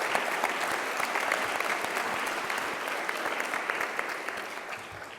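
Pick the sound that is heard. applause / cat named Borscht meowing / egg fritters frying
applause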